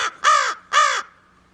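Two loud, harsh caws from a crow living among other birds, each call about a quarter second long with a short gap between, close by and clear, followed by a faint fading tail.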